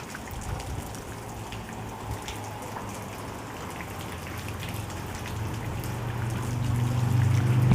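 Rain falls steadily, patters and trickles close by at low volume, and the sound swells slightly toward the end, with no talking.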